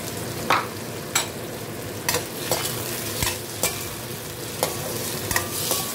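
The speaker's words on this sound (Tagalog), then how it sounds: "magkumatas yung kamatis, maluto maigi para mas malasa siya" Tomatoes sauté in a pan for fish pinangat, sizzling steadily while a spatula scrapes and taps at irregular intervals, close and fairly loud with no talking.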